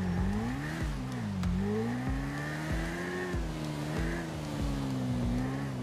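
Motorcycle engine in the GTA V video game, a steady droning rev that rises and falls in pitch with repeated gear-shift dips, loud and continuous throughout with no talk.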